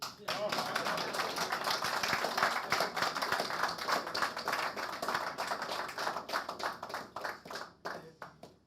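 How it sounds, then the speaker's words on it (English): Audience at an APC presidential candidate session of the Nigerian Economic Summit Group clapping steadily for about eight seconds, a dense sustained patter of many hands that thins near the end, with some voices mixed in. "Please clap for me."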